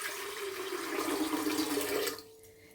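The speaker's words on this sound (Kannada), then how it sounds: "ನೀರು ಹಾಕಿದೆ" Water pours steadily into a cooking pot set on a gas stove for about two seconds, a full rushing splash that stops abruptly, leaving quiet room tone.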